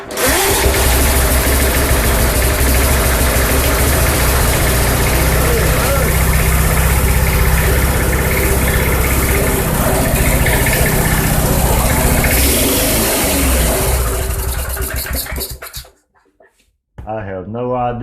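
A Briggs & Stratton 92908 engine on a vintage Sears 131.91280 with a crusty throttle runs loud and close in a steady, rough, throbbing drone for about fifteen seconds, then cuts out, and a voice follows.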